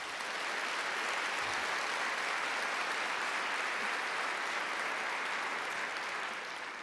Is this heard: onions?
no